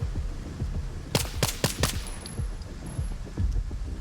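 Video game gunfire: a quick burst of four or five sharp, loud shots in rapid succession, followed by scattered thuds and a few more distant reports over wind-like background noise.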